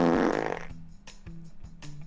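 A cartoon cat lets out a loud, rasping fart lasting under a second, then a few short soft puffs and pops trail off quietly.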